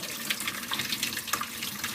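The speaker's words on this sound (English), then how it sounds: "So as you can see, your water runoff is here." Water from an outdoor sink pouring into a drain runoff, a steady close splashing trickle heard alone without voices.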